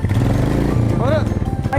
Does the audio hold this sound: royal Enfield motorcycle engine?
yes